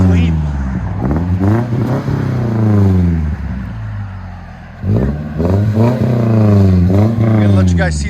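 A 2013 Subaru Outback with a Cherry Bomb glass pack exhaust revs repeatedly, each rev climbing and falling in a clean, deep rumble, loud and close, with a short idle lull in the middle.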